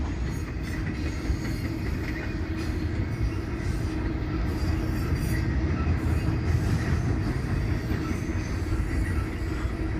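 A freight train rolls steadily through the Taggart tunnel, a continuous loud rumble of wagons with wheel squeal and rhythmic clickety-clack, no voices.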